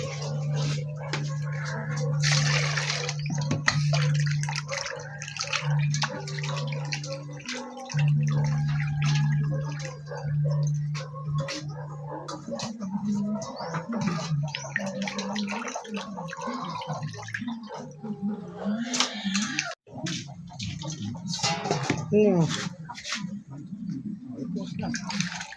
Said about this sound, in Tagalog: Ayan po guys, hugasan na niya. At tapon lang niya yung tubig.